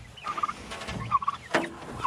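Turkeys gobbling in short warbling bursts, several calls in quick succession, fairly close by.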